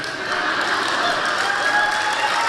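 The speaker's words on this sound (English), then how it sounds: "When I get that much applause before I speak, it makes me very nervous" A crowd at a Bay Area speaking event applauds warmly, an even, dense clatter of many hands clapping at once that holds steady from start to finish.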